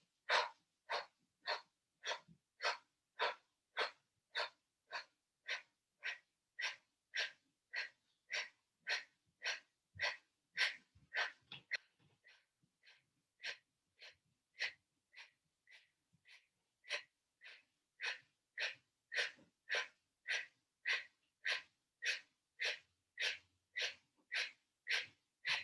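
Forceful rhythmic breaths in a breathing exercise, each a sharp, loud puff repeating at an even pace in sets, with a short irregular pause midway before the steady rhythm resumes.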